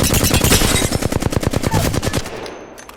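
Flatline rifle in Apex Legends fires a rapid, steady burst of loud, close automatic shots lasting about two and a half seconds, then tails off, with no talking.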